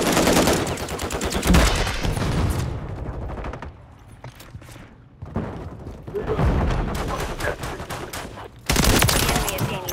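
Dense automatic and single gunfire bursts in a Call of Duty MW3 Zombies firefight, loud and close with sustained volleys that briefly thin out mid-clip before heavy shooting resumes, with talk over the shots.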